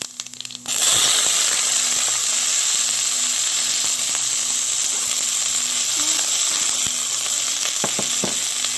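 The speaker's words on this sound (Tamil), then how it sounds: "நம்ம கடுகு உளுந்தம்பருப்பு போடலாம். அப்புறம் கட் பண்ணி வச்ச வெங்காயம் போடலாம்." Mustard seeds, urad dal and chopped onion frying in hot oil for a Tamil cauliflower curry, a steady loud sizzle starting after a brief quiet moment, with scattered crackles and a few stirring clinks throughout.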